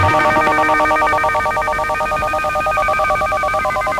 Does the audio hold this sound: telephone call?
yes